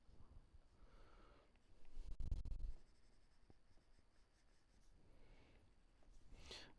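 Pencil drawing on paper during an art lesson, soft continuous scratchy strokes close by with a louder rubbing burst midway and another toward the end.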